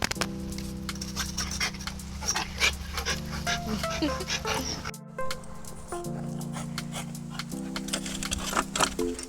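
Several dogs pant quickly and close by, a continuous breathy rhythm over a low steady hum, with brief vocal sounds in between.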